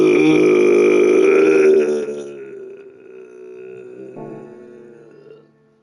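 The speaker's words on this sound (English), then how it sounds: "That was a burp and harp." A loud, drawn-out belch from an older man streaming a racing game, a long voiced rumble close to the mic that fades into a softer tail over several seconds.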